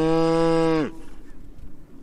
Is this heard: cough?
no